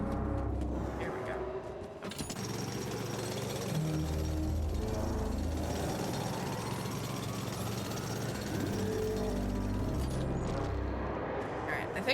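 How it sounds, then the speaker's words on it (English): A drill grinds through loose rocks in the video game The Alters, a loud sustained mechanical rattle with a rising whine midway, while a voice talks over it. "These loose rocks look like they might be passable. Oh? If only I had a tool to drill through them."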